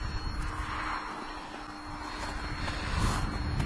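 A radio-controlled model Po-2 biplane flying just after takeoff, its small motor giving a steady, moderately loud buzzing drone that swells slightly toward the end, with no talk.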